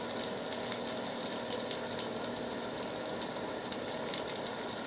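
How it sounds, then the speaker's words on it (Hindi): Garlic fries in hot oil in a kadai wok, giving a continuous, close sizzle with fine crackles and small pops, steady throughout with no talking. "तो हम लहसुन को पहले अच्छे से तल लेते हैं हल्का भूरा होने तक।"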